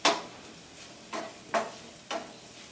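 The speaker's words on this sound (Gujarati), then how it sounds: "તો 1 મિનિટ માવાને શેકતા માવામાંથી ઘી સરસ છૂટું પડી ગયું છે" Mawa (milk solids) being roasted in a pan until ghee separates gives a soft frying hiss with four distinct scraping stir strokes spaced about half a second apart, close and fairly quiet, with no voices.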